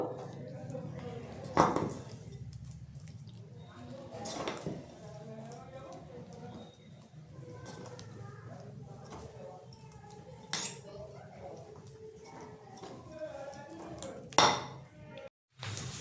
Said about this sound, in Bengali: এই টুটি ফুটিটা আর কিশমিশটা দিয়ে দেবো। এটা আমি খুব ভালো করে মিশিয়ে নেব।